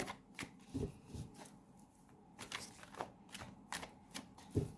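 Tarot cards shuffled and drawn by hand: quiet papery riffles and soft slaps in an irregular run of short bursts, close and fairly faint, with no voices.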